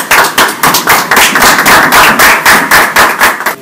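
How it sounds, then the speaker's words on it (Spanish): Audience applause for a senator at a Partido de la U political rally in Magdalena, Colombia, a loud burst of dense clapping that rings on for several seconds with sharp individual claps throughout. "para quien pido un aplauso."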